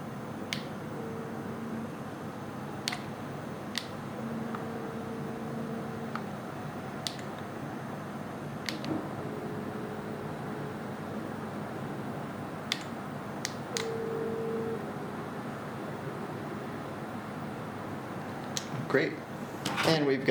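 A competitor's PTZ camera motor, the second unit in a noise comparison, gives faint, intermittent low whines in short stretches over a quiet room, with scattered soft clicks and ticks.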